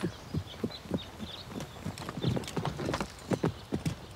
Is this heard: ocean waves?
no